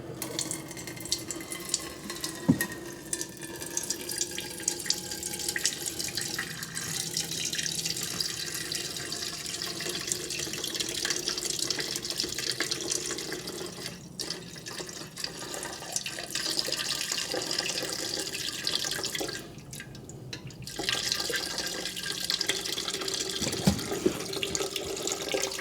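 Melted candle wax pours steadily from a Presto pot into a pitcher, a continuous close liquid trickle and splash like a running tap, with brief pauses and a few small knocks.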